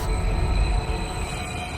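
A train rolls along steadily in the Wuthering Waves video game, a continuous low rumble with a faint high whine held close and loud throughout, no voices over it.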